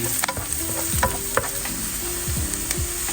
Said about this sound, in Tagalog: some 6 cloves of garlic. Saute.